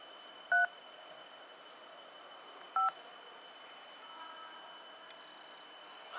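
DTMF keypad tones from a BlackBerry Torch 9860 phone, two short, clear beeps about two seconds apart over quiet background hiss, with no other sounds.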